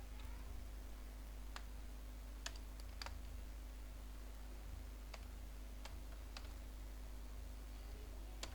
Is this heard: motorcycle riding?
no